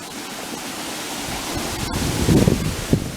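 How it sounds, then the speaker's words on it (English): Water gushing out of a pipe, a broad steady rushing roar that swells louder near the end, close and alone. "All that water coming out of that pipe."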